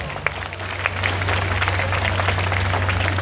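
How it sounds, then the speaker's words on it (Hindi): Schoolchildren clap for themselves at a school event with a chief guest, a steady, moderately loud patter of hands that builds after the first second and holds over a constant low electrical hum. "सभी बच्चे एक ताली अपने लिए खुद के लिए बजाइए"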